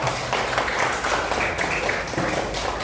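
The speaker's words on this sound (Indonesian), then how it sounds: "Tepuk tangan untuk Fabian." Students in a classroom clap for a classmate after a presentation on heart disease, a short, dense burst of applause that continues steadily throughout.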